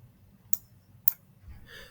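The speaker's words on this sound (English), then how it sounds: "Double click." A computer mouse double-clicks on a laptop: two sharp, close clicks about half a second apart, then a faint low rustle, with no talking.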